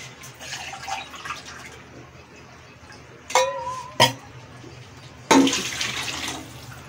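Water pours into a pot of rice for chicken biryani in a few short splashy bursts, fairly close, with quieter kitchen background between pours.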